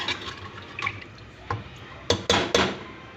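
Water poured from a glass into a pot of urad dal gosht cooking on the stove, with several short splashing pours and drips, close and moderately loud, no talking.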